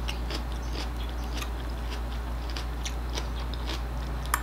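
Someone chews and bites into Filipino chilli noodles with vegetables up close, soft wet crunching and smacking sounds repeating over a low steady hum.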